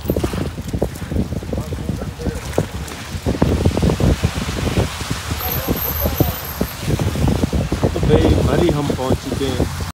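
Heavy rain and gusting wind batter a car on the road toward Mall Road in Murree after a hailstorm, making a loud, constant wash of rain with scattered thumps and rattles.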